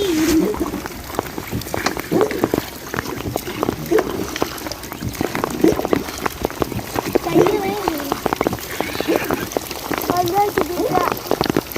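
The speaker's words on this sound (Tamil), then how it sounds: "நல்லா மழையில மாட்டிக்கிட்டோம்." Rain falling during a boat ride through a mangrove forest, a dense patter of drops on surfaces with scattered sharper taps throughout, while people talk over it.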